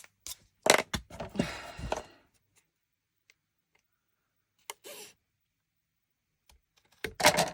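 Large scissors cut through paper in a couple of crisp, rustling snips, then fall silent before one brief snip and a final louder burst of cutting, close and clear.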